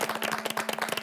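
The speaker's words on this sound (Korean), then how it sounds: "터지는 우리 최자연 씨의 실행 이야기 저희가 박수를 전해드리겠습니다" A Korean TV talk show's studio audience claps briskly and steadily for a short burst, many hands close and lively, with no talk over it.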